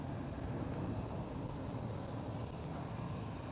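A Lufthansa airliner taxis at Amsterdam Schiphol airport with a steady, broad, distant jet engine roar that holds at an even level throughout.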